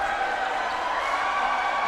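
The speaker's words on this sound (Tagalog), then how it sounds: "listen to the crowd of Kamaligan as they celebrate" A home crowd roars steadily at a Camaligan basketball game in a provincial tournament, a dense, continuous wash of cheering and shouting at fairly even loudness.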